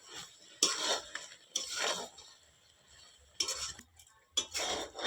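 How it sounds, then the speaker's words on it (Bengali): Spoon stirring spiced elephant apple pickle in a metal pan, four separate bursts of scraping and clinking, close and fairly loud with quiet gaps between, no talking. "আবার একটু ভালো করে নেড়ে চেড়ে নেব।"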